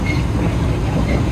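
A moving train in Taiwan rumbles steadily as heard from inside the carriage, a loud continuous low roar with faint wheel clatter.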